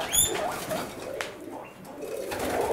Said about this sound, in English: let's start off by looking at the pigeons